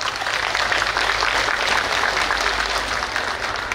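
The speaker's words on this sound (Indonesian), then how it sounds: "tepuk tangan untuk Bapak Dani" Audience applause at an evening talk show event honouring a sponsor, dense and steady clapping from a large crowd with no break, fairly loud.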